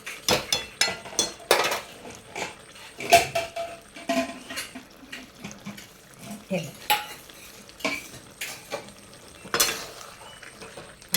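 Tomato and chili being stir-fried in a pan for a village-style chicken dish, with a utensil scraping and clattering against the pan in irregular bursts over a soft sizzle, close and fairly loud, no talking.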